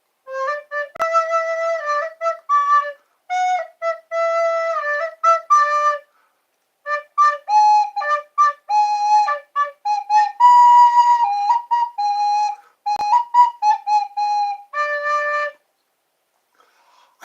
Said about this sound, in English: I'm skilled at playing the flute. Or the recorder, sorry.